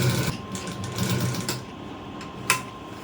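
A sewing machine stitches around the neckline of a Punjabi dress, a steady close mechanical whirr running alone with a brief sharp click near the end.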